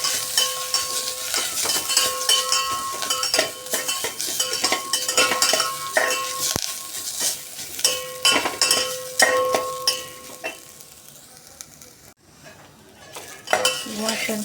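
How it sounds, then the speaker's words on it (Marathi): Ground masala paste sautéing in oil for a traditional urad dal aamti, with frequent metal spoon clinks and scrapes against the pot over a continuous sizzle that fades near the end. "वाटण छान असं तेलामध्ये परतवून घेणार आहे आपण"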